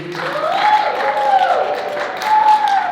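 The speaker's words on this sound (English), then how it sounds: "Guys, please give a round of applause for Amy." An audience applauds as a person is called to the front, a brief wash of clapping and crowd noise with voices and cheers riding over it.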